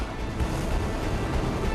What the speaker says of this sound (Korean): 파도는 더욱 힘을 얻었다.